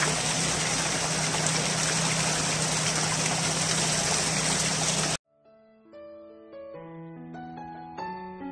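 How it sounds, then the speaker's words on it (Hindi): A small waterfall gives a steady, dense rush of flowing water for about five seconds, then cuts out abruptly as tuneful music takes over. "यहाँ पे देखिए दोस्तों बहुत ही प्यारा झरना पानी का है"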